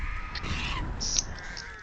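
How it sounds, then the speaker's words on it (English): Crows caw in the video game Dead by Daylight, a short raspy burst of calls over steady game ambience, moderately loud with no talking. "I got hit with the crows."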